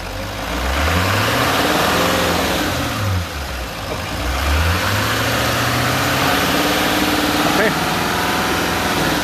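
Car engine revved and held around 2,500 RPM during a charging system test, a loud close drone with pitch wavering and dipping as the throttle is worked, with people talking over it.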